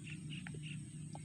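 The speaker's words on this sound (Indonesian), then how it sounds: "suara kita, suara MP3 dari burung belibisnya" Faint, short whistled whistling duck calls, several quick chirps over a low steady hum, played as an MP3 from a small speaker at a distance.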